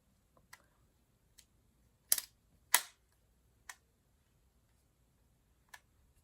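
Sony ZV1 camera battery compartment snapping shut with a couple of sharp plastic clicks, near and crisp, alongside a few fainter small taps in an otherwise quiet room.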